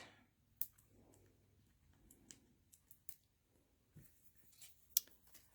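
Small piece of paper snipped off the end of a strip with scissors during Stampin' Up! card-making, quiet close snips and light clicks with paper handling, no talking.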